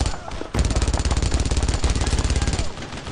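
An MG-42 machine gun fires in the Brothers in Arms video game, loud, fast and continuous after a brief lead-in, heard close with no voices.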